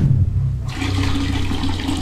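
Water gushes steadily from a bathroom faucet in a home restroom, a continuous close hiss that starts abruptly partway through and runs on without talk.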